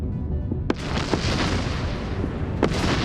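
A battleship blowing up in the space strategy game Endless Space 2, heard as a continuous roar of distant explosions and booms with a few sharper cracks punctuating the rumble.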